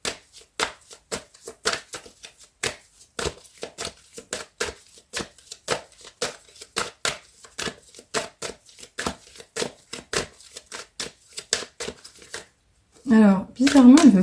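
Oracle des miroirs deck of oracle cards being shuffled by hand, a rapid train of crisp riffling flicks repeated steadily for about thirteen seconds, close and fairly loud, then a short burst of another sound at the end.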